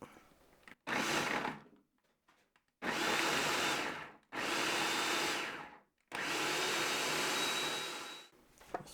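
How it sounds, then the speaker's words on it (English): A food processor minces vegetables for pizza sauce in three loud, close pulses of a couple of seconds each, separated by short quiet gaps, with whirring blades and rattling contents. "I'm going to chunk it up and put it in the food processor as well."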